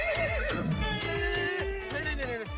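A horse neighs in a loud, drawn-out whinny from close by in a comedy movie trailer, with background music running underneath.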